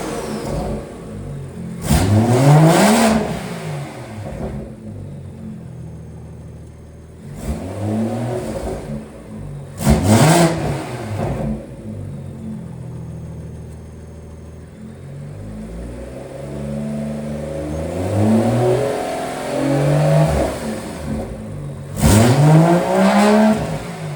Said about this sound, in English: let's rev this thing right here